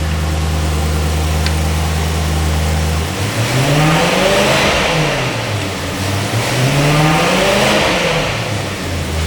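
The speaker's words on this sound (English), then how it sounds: "I'm going to go out on a limb here and say that's one of the best sounding V8s this side of something like a supercar." A 4.0 V8 in a BMW E92 M3 idles steadily for about three seconds, then revs in two long rising and falling sweeps, loud and close with a throaty roar.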